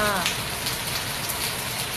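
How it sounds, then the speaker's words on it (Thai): Steady rain falls in front of a house, a dense, continuous hiss of drops close by, with a voice briefly heard at the start. "ฟังเสียงน้ำฝนกันนะคะ"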